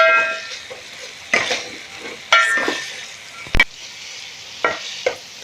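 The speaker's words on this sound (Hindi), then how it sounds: "और अब हम इसे अच्छी तरीके से मिक्स कर लेंगे।" Capsicum, green chillies and other vegetables are stirred into chicken fried rice in a pan, with a soft sizzle under several sharp spatula scrapes and knocks against the metal; no one talks.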